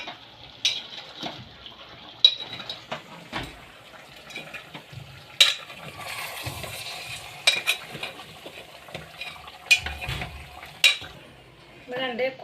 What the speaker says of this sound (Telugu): ఒకసారి మూత తీసి కలబెట్టుకుందాం.